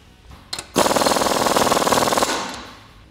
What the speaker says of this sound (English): once I can feel that it's threaded most of the way on, I'm going to take an impact to it.